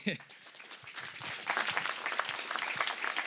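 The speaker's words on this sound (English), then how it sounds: "Little round of applause, maybe." An audience gives a short round of applause at a Google event in New York, with loud, dense clapping that swells and continues over a speaking voice.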